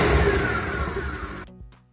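Tuned BMW X6 with the N54 engine gives a loud, close exhaust roar that sweeps and fades over about a second and a half, then cuts off into near silence with a couple of faint pops.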